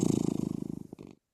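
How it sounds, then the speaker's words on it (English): A cat purrs close up in a quick, rhythmic rumble of pulses, trailing off with a short snuffle at the end. "a cat purring,"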